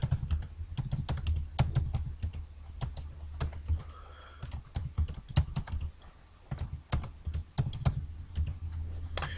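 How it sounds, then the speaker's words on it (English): Rapid clicks of typing on a computer keyboard while entering data in Excel, irregular bursts of keystrokes close by, with one short pause midway. "So I'm just going to start typing here."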